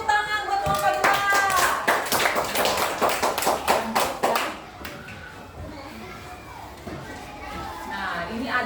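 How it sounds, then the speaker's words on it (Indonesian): A group of students claps rapidly and unevenly for several seconds in a classroom, then the clapping fades into scattered voices and chatter of children in the room. "Tepuk tangan buat kelompok 2."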